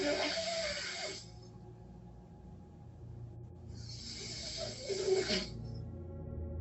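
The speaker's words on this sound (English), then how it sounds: "You can even hear him snoring in the background." Faint snoring: two slow, breathy rasps several seconds apart against a quiet, low background hum.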